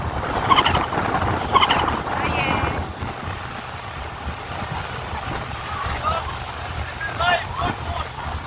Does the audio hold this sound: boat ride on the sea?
yes